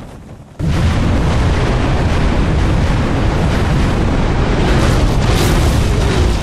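A sudden heavy boom of a SCUD Storm superweapon missile strike in Command & Conquer Generals Zero Hour kicks in and becomes a sustained, roaring rumble of blasts that fills the whole clip, loud and close, with no voices.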